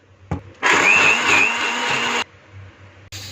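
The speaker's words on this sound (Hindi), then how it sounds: "इसे अच्छे से ब्लेंड कर लेंगे" An electric blender purees cooked chana dal with the whole spices removed, a loud steady whirring for about a second and a half before cutting off, with quiet kitchen sounds around it.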